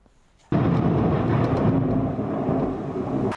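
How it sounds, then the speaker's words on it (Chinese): Thunder during a heavy rainstorm in rural Nepal breaks in abruptly after a quiet moment and rumbles loudly and continuously for about three seconds before cutting off. "雷声轰隆隆作响，暴雨突然来袭"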